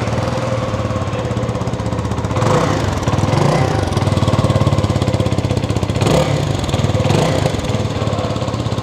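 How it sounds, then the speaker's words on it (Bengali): A CFMOTO 250NK motorcycle engine runs close by with a steady, rapid throbbing idle, rising briefly in a couple of revs before settling back, with no talking over it. "এই হচ্ছে এই বাইকের সাউন্ড"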